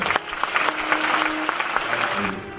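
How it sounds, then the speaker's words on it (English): Audience applause after the Every 15 Minutes program in Humboldt, a steady wash of clapping from a crowd sustained for several seconds at moderate loudness, with faint voices mixed in. "how about a round of applause for the Every 15 Minutes program and everybody that helped out"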